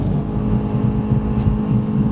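Race car engine at high revs on the Phillip Island circuit, a steady, loud, low droning roar heard from inside the car, continuous and unbroken for the whole stretch.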